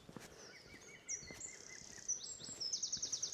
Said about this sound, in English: Just wanted to get some more bird song recording before I headed back into Ventnor.